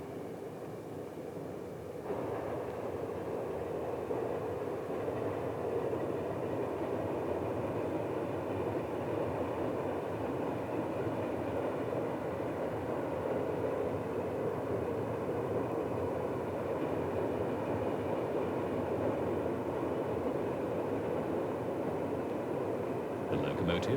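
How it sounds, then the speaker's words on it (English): A Swiss AE66 locomotive in red livery and a red and cream DB Class 103 pass by, making a steady, moderately loud rumble of rail traffic that stays even for the whole stretch. "The locomotives include a Swiss AE66, the first batch of 25 in red livery, and a red and cream DB Class 103."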